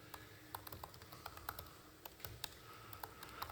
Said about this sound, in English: So let's see if I can type.